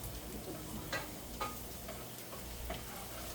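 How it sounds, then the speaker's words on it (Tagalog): Garlic browning in a pan gives a quiet, steady sizzle with occasional soft ticks and stirring clinks, close and faint. "pa-brown natin muna konti yung bawang"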